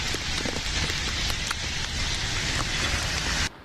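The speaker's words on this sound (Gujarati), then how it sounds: "मुंबई में 2 दिन से लगातार तेज बारिश हो रही है" Heavy rain pours down steadily in Mumbai, a dense, loud, continuous hiss of drops on surfaces that holds for about three and a half seconds and then drops off abruptly.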